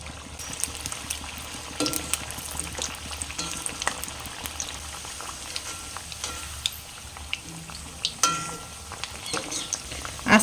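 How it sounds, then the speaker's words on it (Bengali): Wheat-flour biscuits deep-fry in white oil over a medium gas flame, giving a close, continuous bubbling crackle with scattered sharp pops and occasional clinks of stirring. "মিডিয়াম রেখেই ভেজে নেব।"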